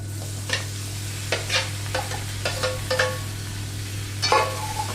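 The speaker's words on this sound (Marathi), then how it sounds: "हे बटाटे आपण आता फोडणीला घालूया" Boiled, spice-coated potatoes sizzle in hot tempering oil for an onion-free dosa potato filling, while a spoon scrapes and stirs the pan in repeated short strokes over a steady low hum.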